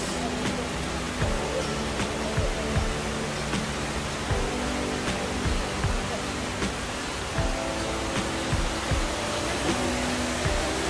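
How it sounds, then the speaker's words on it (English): A huge waterfall pool at the 9/11 memorial at Ground Zero, a broad, constant roar of cascading water with scattered clicks and faint crowd sounds throughout. "it's an extremely huge waterfall"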